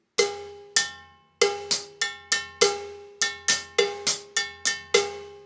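A bright metal bongo bell is struck in a steady syncopated cascara pattern on timbales, each ringing hit decaying quickly, played alone and close.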